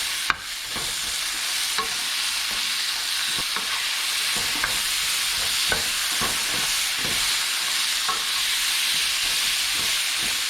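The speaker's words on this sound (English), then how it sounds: "Just put the green bean in. It shouldn't take long to cook at all" Green beans sizzle steadily in a hot pan for a vegetarian dish, a constant loud frying hiss broken by repeated scraping and clacking strokes as they are stirred.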